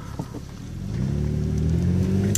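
A Nissan Cefiro A33 with an automatic transmission revs up, its engine tone climbing steadily and holding a loud, close, smooth drone with no talk over it.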